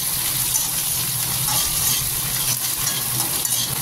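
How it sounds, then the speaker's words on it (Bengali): Onion, whole garlic cloves and whole green chillies fry in hot oil, a steady close sizzle with light stirring and no talk. "আমি পেঁয়াজ পেঁয়াজ রসুন, গোটা রসুন আর গোটা কাঁচা লঙ্কা, এগুলো সব ভেজে নেব।"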